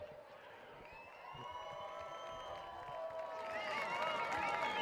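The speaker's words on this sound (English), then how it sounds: "You have a cheering section out there, Robert" Crowd cheering and whooping for a Hall of Fame inductee during a ceremony at a high school football game, a steady roar of voices with whistles that swells louder toward the end, with speech over it.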